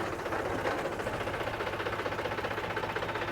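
Tractor engine running steadily in a village setting as it is turned around, a continuous throbbing mid-pitched drone with a fast regular pulse, close and fairly loud, with no talk over it.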